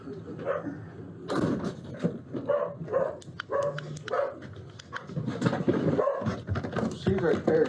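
A dog barks and whimpers near a home during a police bodycam encounter, yips and whines scattered among people talking over one another and some shuffling movement.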